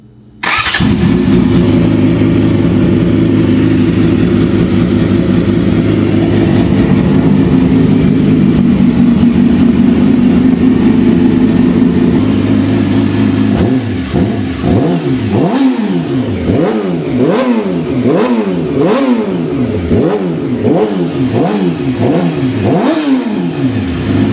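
A car engine cold-starts with a low, steady idle that runs for about thirteen seconds, then breaks into a series of sharp, rising and falling revs, roughly a dozen throttle blips in quick succession, loud and close with no talk.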